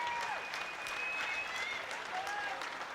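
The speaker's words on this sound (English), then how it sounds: "a massive round of applause for both of these men after 3 excellent rounds of action" Crowd at a kickboxing event applauds both fighters after three rounds, a steady wash of clapping under a faint whistling tone and low talk.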